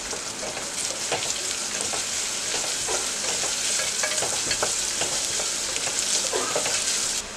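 Chopped onion with a pinch of salt fries in a pan, a continuous loud close sizzle with crackling pops and stirring scrapes throughout, no voices.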